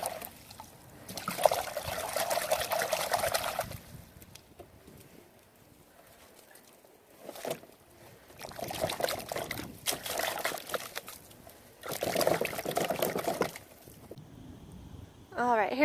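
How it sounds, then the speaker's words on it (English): A garden hose sprays water over freshly dug horseradish roots outdoors, with several bursts of splashing and trickling broken by quieter pauses and handling noises. "I'm going to take these pieces and wash them off with the hose"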